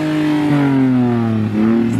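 A turbocharged Suzuki car with a Garrett T25 turbo, built for legal quarter-mile drag racing, revs close and loud in a steady rising-and-falling engine tone with a brief dip midway; no talking.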